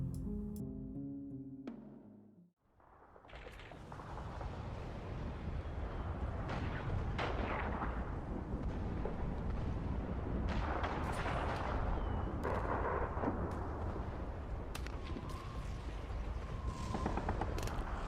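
Battle gunfire and las weapon blasts from a Warhammer 40,000 scene echo through enclosed halls: after a brief musical opening, a dense, continuous roar of shots and explosions runs loud and unbroken, with sharp cracks rising out of the din.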